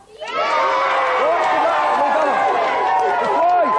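Studio audience at a 1990s game show cheering and whooping for a competing team, a loud, sustained roar of many voices swelling quickly and holding steady, with shouts rising above it.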